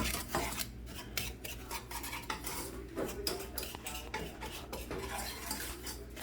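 Flour and sugar are stirred together in a bowl for crème brûlée, giving a steady scraping, clinking run of utensil-on-bowl strokes throughout, close and fairly busy with no talking.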